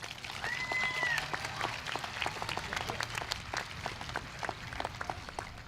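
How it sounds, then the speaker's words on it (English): Graduating students at a high school graduation ceremony applauding themselves, a sustained wash of many hands clapping from a large crowd, steady throughout with a brief electronic tone near the start. "So show yourself and your peers how proud you are. Give yourselves a round of applause."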